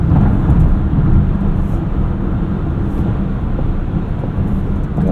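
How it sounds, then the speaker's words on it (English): Steady, loud low rumble of wind and road noise inside a 2025 Volkswagen ID. Buzz electric van cruising at highway speed, with no voices. "A little bit of wind noise at highway speeds, not terrible though"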